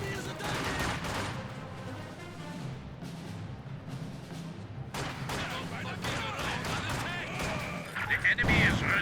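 A quad half-track anti-aircraft gun fires in a Company of Heroes 2 battle, rapid bursts of automatic fire with thuds and blasts mixed in, under steady commentary and in-game voices.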